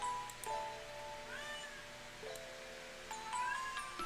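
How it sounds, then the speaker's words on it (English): A cat meowing in the video game Trails in the Sky, several faint, drawn-out meows rising and falling over soft background game music. "Cat, please."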